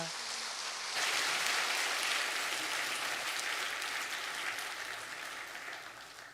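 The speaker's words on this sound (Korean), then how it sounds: "우리 박수하겠습니다." Sustained applause from a church congregation during a Sunday service, steady and fairly soft, clapping continuing for several seconds before gradually tapering.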